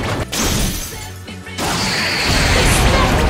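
Ice wall smashed through in a Blazblue Cross Tag Battle fighting game scene, with a loud shattering crash followed by a dense, sustained roar of debris and impact noise.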